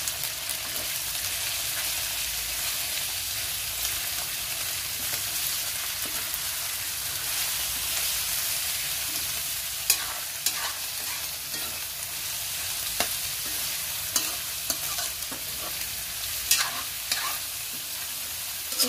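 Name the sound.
chicken frying in oil in a pan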